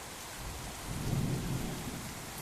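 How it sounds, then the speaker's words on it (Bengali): Heavy rain and a storm heard from inside a house, a dense even roar of rainfall with a low rumble swelling briefly in the middle, without voices. "আর দেখো কি পরিমাণ বৃষ্টি হচ্ছে, ঝড় হচ্ছে"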